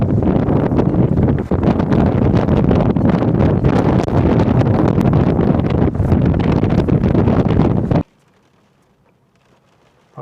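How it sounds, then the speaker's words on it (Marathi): Strong storm wind in Ireland batters the microphone in loud, roaring gusts for about eight seconds, with low rumbling buffets throughout. Then it cuts off abruptly into near silence. "सो वाऱ्यार आवाज येता आसता तुमकां केसो"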